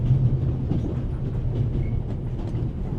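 Steady rumbling rattle of a moving train carriage from a Victorian-era adventure game, a continuous low clatter with faint clickety-clack, heard alone and fairly loud throughout.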